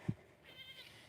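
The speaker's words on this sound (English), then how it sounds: "The goats" A goat on a rainy farm gives a single brief bleat, soft and somewhat distant, followed by quiet ambient noise.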